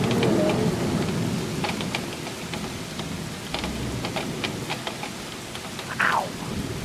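Steady rain pours during a thunderstorm, with a low rumble of thunder and scattered drops striking nearby surfaces, heard close and continuous without talk.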